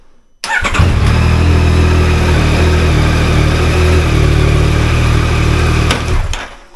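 A motorcycle engine starts up and settles into a steady, loud running drone close by, the start-up on a used bike being looked over before purchase.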